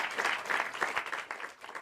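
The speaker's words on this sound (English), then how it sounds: "I need to turn down the applause and turn up the music for the graphic." Applause sound effect playing during a livestream, a steady wash of crowd clapping at moderate level with no talking over it.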